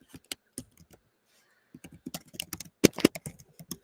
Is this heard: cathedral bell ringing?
no